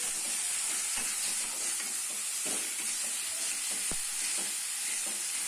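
Coriander leaves and curry leaves frying for a ridge gourd chutney, a constant bright sizzle and steamy hiss with scattered stirring scrapes and taps, no voices.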